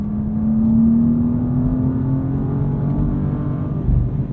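A 2023 BMW M2's S58 engine drones steadily at moderate loudness while driving, its pitch rising slowly as the car accelerates, with a brief bump of louder rumble near the end.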